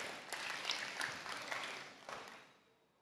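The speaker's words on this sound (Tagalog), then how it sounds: "Bigyan natin sa Panginoon ng pinakamalakas na palakpak sa oras na ito." A church congregation at a Thursday midweek service applauds, a moderate wash of clapping that trails off and fades near the end.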